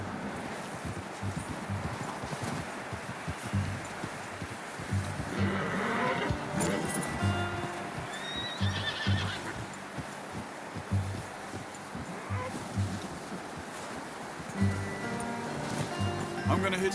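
Horse hooves clip-clopping steadily in the Red Dead Redemption 2 video game, a continuous close trot mixed with rustling ambience and a voice speaking at points.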